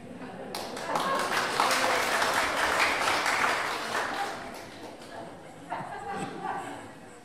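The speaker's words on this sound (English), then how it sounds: "Is all that applause for me?" Audience applause at a memorial service for Tommy Patterson, a broad steady wash of clapping that swells, holds for several seconds, then thins, with voices murmuring underneath.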